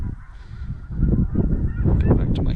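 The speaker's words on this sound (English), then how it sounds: "Yeah, those are definitely snow geese." Snow geese honk at Loess Bluffs in Missouri, a loud clamor of overlapping nasal calls from a flock rising over a low rumbling wash of wingbeats and movement, with no talking.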